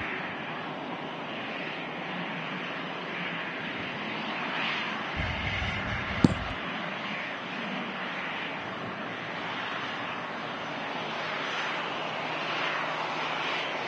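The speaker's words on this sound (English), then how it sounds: "Gorgeous looking Qatar 777 crossing the left-hand runway." Steady broadband roar from a jet aircraft at Manchester Airport, with a Qatar Boeing 777 crossing the runway, heard from a distance as a continuous wash of engine noise with one brief sharp knock near the middle.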